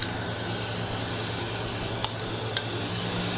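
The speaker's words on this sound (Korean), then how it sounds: "여기에 이제 불려놓은 쌀을 넣어주세요." Soaked rice goes into a pan of onions cooked without oil, giving a steady soft sizzle with a couple of brief sharp clicks from stirring.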